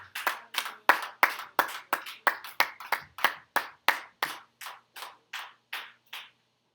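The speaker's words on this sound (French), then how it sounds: "tu peux bien acclamer pour ton Dieu pendant que nous recevons la personne qui va nous conduire ce soir" Hand claps during a church worship service, about twenty evenly spaced sharp claps in a steady rhythm, close and crisp, slowing slightly before stopping.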